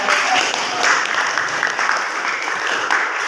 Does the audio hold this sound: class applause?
yes